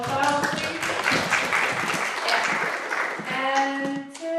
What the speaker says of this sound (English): So, small applause, please.